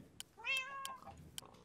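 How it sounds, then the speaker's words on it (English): A cat in the video game Minecraft gives one drawn-out, rising-then-falling meow, fairly quiet, with a few sharp clicks around it. "He's meowing."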